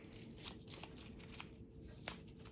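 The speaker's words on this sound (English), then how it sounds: "if you get one of these special cards, you just shuffle it back in and draw again" Game cards from a board-game prototype are shuffled back into a deck, giving a soft continuous riffle with several light papery flicks and snaps spread over a couple of seconds, close and quiet with no talking.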